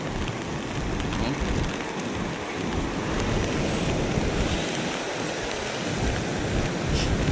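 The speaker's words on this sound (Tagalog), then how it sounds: "Tayo ngayon sa tabing dagat" Seaside waves and strong wind during a Signal No. 3 storm, with banana trees nearby, make a steady, loud roar of surf and gusts buffeting the microphone, continuous and dense throughout.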